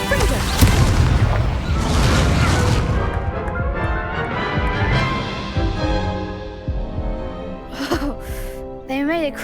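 Heavy explosive booms and crashes burst from the Confringo blasting spell during combat in Hogwarts Legacy, loud and rumbling over a chaotic game soundscape with voices calling out amid the blasts.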